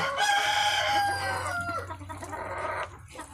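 Chickens cluck and call close by, a drawn-out crowing note followed by scattered clucks, with no talking.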